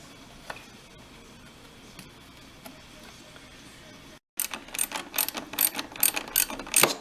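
Bolts on a 2013 ZX6R upper front fairing are tightened with a ratchet. The first few seconds are a quiet room, then brisk bursts of close, crisp ratchet clicks follow.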